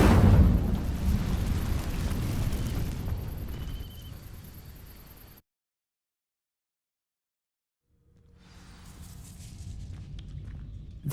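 Incendio fire spell cast in Hogwarts Legacy, a loud roaring whoosh of flame with a rumbling burst that fades out, then silence, then a softer crackling swell of fire returning.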